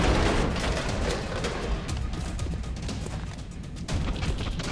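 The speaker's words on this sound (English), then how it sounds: "I can throw a grenade on them" A grenade blast in the PC strategy game XCOM Enemy Within, a loud broadband explosion rumbling at the start and trailing into a sustained roar with scattered crackling debris.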